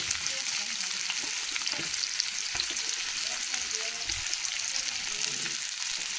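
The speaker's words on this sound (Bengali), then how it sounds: "এখন আমি এর মধ্যে পেঁয়াজটা দিয়ে দিচ্ছি" Chopped onion frying in hot oil in a wok, a steady dense sizzle that holds loud and even throughout with small crackles and no talking.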